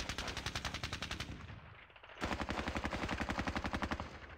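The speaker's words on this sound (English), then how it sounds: "They can use their machine gun and the rifles there." Machine gun and rifle fire in the Squad Battles Red Victory war game at Ponyri crackle in rapid, evenly spaced bursts, dipping briefly midway before resuming just as loud and steady.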